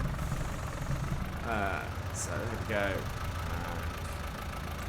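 Tractor engine idling in a survival farming game, a steady low rumble running under a man's brief speech.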